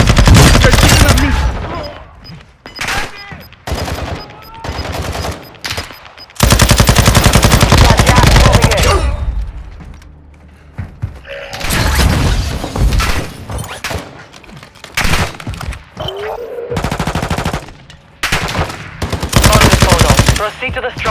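Loud, close machine gun fire in Warzone 2.0 on PS5 rips out in repeated long bursts with short gaps, mixed with impacts and breaking sounds.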